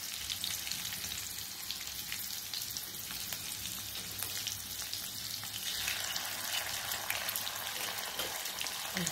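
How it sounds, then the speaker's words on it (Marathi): Grated coconut with a pinch of asafoetida frying in hot oil for taro leaf gargati bhaji, a steady close sizzle with soft stirring scrapes throughout, no talking. "खोबरं थोडंसं तळायचं आपल्याला त्याच्यामध्ये"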